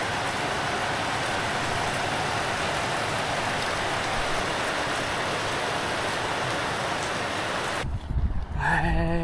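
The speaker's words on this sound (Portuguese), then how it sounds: "E agora caiu a maior chuva." Heavy rain pours steadily in a broad, unbroken hiss close by for about eight seconds, during an outdoor trip near Lago di Tenno, then a brief shift with some nearer rustling and a faint voice at the end.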